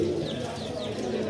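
Pigeons coo in a loft of highflyer pigeons in Lahore, low soft repeated coos close by, with faint background noise.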